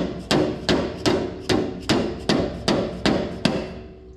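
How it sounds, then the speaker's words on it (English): Nine heavy dead blow hammer blows land at a steady, unhurried pace, each a dull, solid thud with a short ring-off, close and loud with no voices. "So take dead blow hammer."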